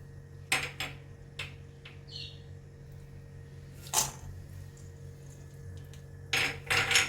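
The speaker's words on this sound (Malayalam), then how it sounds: "ഒന്നിലേക്ക് നമുക്ക് അണ്ടിപ്പരിപ്പും കൂടി ഇട്ട് കൊടുക്കാം" Cashew nuts tipped into a hot pan on the stove while making banana cake, giving a few scattered, close-up clinks and light taps against the metal with quiet pauses between.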